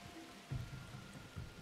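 Rain falling in The Universim, a god-game world-building sim: a steady soft hiss of rainfall with low rumbling swells, fairly quiet and continuous, no talk.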